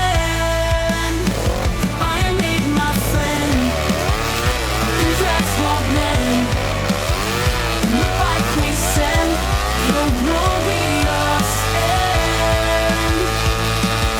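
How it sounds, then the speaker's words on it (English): A motorbike, the home-built SuperFarthing, does a burnout that shreds its rear tyre: a loud, continuous engine roar that rises and falls with revving, with tyre screech over it and no talking. "now we will shred a tyre in his honour"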